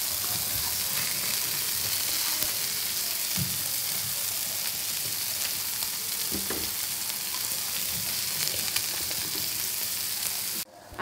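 Prawns and Bombay duck fry in oil in a pan, a continuous, even sizzle with a few soft thumps, ending in a brief louder scrape.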